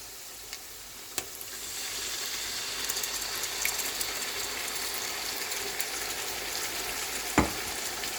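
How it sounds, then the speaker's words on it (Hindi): Spices fry in a pan for mutton korma with a quiet, continuous sizzle, broken now and then by a few faint clicks and one louder knock near the end. "2 मिनट के लिए भूनेंगे मसाले डालकर"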